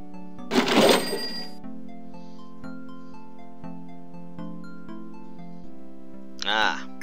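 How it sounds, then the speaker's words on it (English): In the adventure game Gabriel Knight, a cash register in a bookshop clangs open with a bright ringing burst, a low musical drone follows, and a second short chime sounds near the end. "Gabriel opens the cash register to examine the take."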